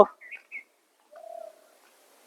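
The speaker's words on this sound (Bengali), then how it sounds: "ঘুঘু পাখির শব্দ" A dove calling in a quiet rural setting on Ghoramara island in the Sundarbans, a few soft chirps followed by one low, drawn-out coo, faint and alone against near silence.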